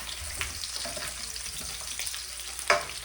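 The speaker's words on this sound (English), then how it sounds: "I'm going to go ahead and toss these meatballs around. Because they browning up on one side." Meatballs frying and being tossed in a pan, a steady close sizzle with soft stirring scrapes and one louder clack near the end, no talking.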